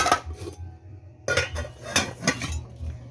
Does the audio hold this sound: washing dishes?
yes